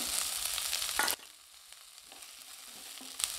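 Thinly sliced onion and medium bell pepper sizzle in a pan for restaurant-style cauliflower Manchurian. The frying is loud and hissing for about a second, then cuts off suddenly to a faint, quieter crackle.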